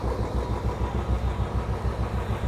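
A Yamaha RX100 two-stroke motorcycle engine idles close by with a steady, throbbing pulse of even beats and no voices over it.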